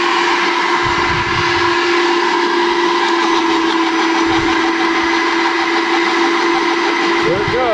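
A Sun Joe CJ603E electric wood chipper running loud and close, its steady motor whine holding a sustained tone with rattling and intermittent chewing bursts as material feeds through; voices are faintly present under the noise.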